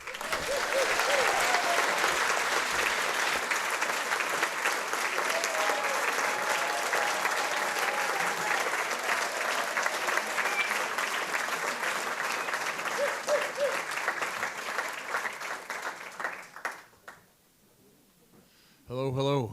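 Sustained applause from a concert audience greeting folk musicians, a dense steady wash of clapping lasting most of the clip, with some crowd voices mixed in, before it dies away to near quiet and a voice starts speaking.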